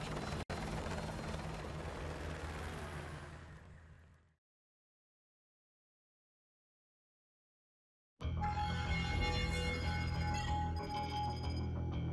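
A military helicopter in Call of Duty: Modern Warfare 2 Remastered drones with a loud, dense rotor-and-engine roar that fades out, falls silent for a few seconds, then returns abruptly at full strength.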